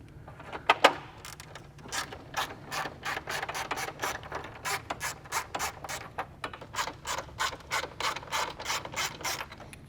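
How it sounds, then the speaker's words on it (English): A hand ratchet with a T30 Torx bit works a fan shroud bolt on a BMW B48 engine in a Mini, giving steady, rhythmic rasping clicks in repeated strokes, close and fairly clear. "we're gonna use a T30 with a ratchet to remove this bolt for the fan shroud"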